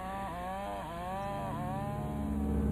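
Chainsaws cut swaths through thick trees for pulp in a lush Alaskan forest along the Inside Passage. One saw buzzes steadily nearby, its pitch dipping briefly a few times as it bites into the wood.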